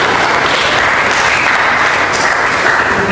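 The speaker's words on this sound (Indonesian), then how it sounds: "Beri tepuk tangan untuk Fadli" Loud, close applause from a university lecture audience, continuous dense clapping that holds evenly from start to finish.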